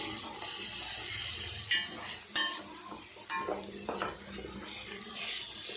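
Ground masala and boiled chickpeas being stirred and sautéed in a pan for chana kurma, with a spatula scraping and clinking against the metal at intervals over a low, steady sizzle.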